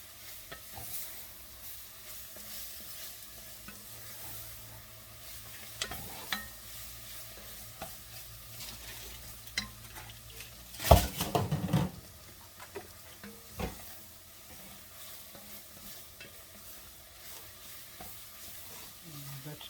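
Onions and vegetables being stirred in a pot for seafood gumbo: a low, steady scraping and soft sizzle with occasional louder clanks of the spoon against the pot, mostly alone with no talk.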